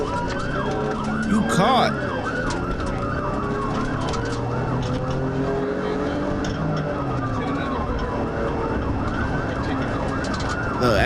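Emergency vehicle sirens wail and yelp through New York traffic, several overlapping sweeping tones close and loud for the whole stretch, with engine noise beneath and a brief voice.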